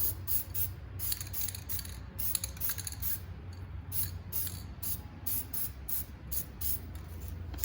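Short bursts of an aerosol spray can coat a John Deere chassis, each hiss about a quarter second long, repeated in quick irregular pulses at close range with no talking.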